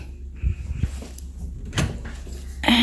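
A hotel room closet door slides open, giving a few soft knocks and rolling scrapes followed by a brighter clack near the end, close and fairly loud in a quiet room.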